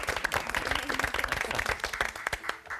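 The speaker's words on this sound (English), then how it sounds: "Give her a round of applause." A small studio audience claps for a golden wedding anniversary, with distinct close handclaps in a brisk uneven patter that fades out at the end.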